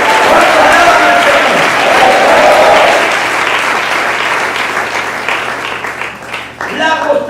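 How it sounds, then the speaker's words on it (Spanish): Church congregation clapping loudly and steadily for several seconds, a dense wash of applause that thins toward the end as a voice begins speaking over it. "Un aplauso fuerte al Señor del Señor."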